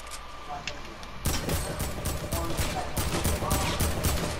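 Quiet game ambience, then a sudden rapid string of gunshots from a gun in the video game Fortnite that carries on steadily to the end, close and fairly loud, with a voice faintly mixed in.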